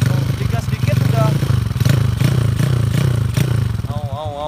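A Yamaha Mio 150cc roadrace motorcycle engine runs close and loud with a rough, throbbing idle and a few quick throttle blips, while someone talks over it.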